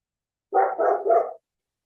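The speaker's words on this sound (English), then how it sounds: "Have you got a dog in your house? No, it's next door or something." A dog next door gives three quick barks in a row, fairly loud and clear against otherwise silent surroundings, with no one talking.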